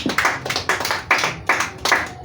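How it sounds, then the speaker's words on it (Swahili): A church congregation claps for Jesus in a steady group rhythm, six or so loud, spread-out bursts of many hands landing together about every 0.4 seconds. "Pigia Yesu makofi mazuri."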